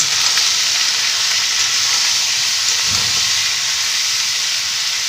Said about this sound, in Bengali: এবার আমি খুব ভালো করে সবজিটাকে ভেজে নেব